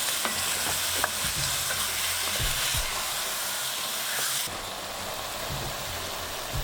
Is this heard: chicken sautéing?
yes